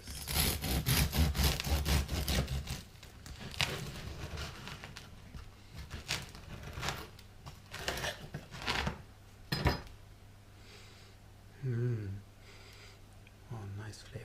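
A knife saws through a homemade Black Forest sourdough loaf in quick rhythmic strokes, close and crisp, then slows to a few scattered cuts, with someone talking throughout.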